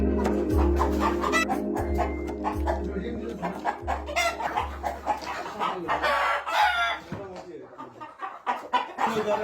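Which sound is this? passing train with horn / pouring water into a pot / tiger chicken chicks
tiger chicken chicks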